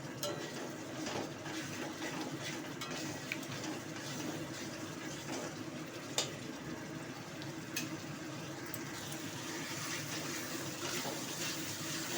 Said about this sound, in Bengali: এবার আমি জল দিয়ে দিলাম পরিমাণ মতো।